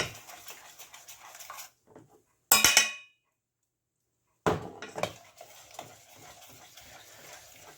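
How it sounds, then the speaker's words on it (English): A fork or whisk beats milk sauce in a pot, making quick scraping clinks and stirring rattles in short bursts, with a full silence and one sharp loud clatter partway through. "Then you can get your fork or your whisk out to give it a good beating"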